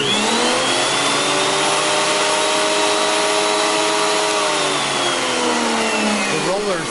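A Ridgid TP 1300 thickness planer with repaired rollers runs loud and steady, a continuous motor whine with sliding tonal harmonics that dip slightly near the end.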